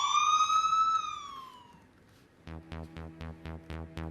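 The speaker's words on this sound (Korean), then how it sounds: "이쯤에서 사이렌이 울려주네요." A siren wails in a long falling sweep, then gives way to a run of loud, rapid repeating electronic pulses, clear and alone with no talk.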